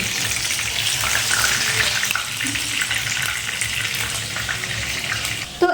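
Pieces of chicken satay frying in hot oil, a continuous close bubbling sizzle with a brief clatter at the very end, no voices.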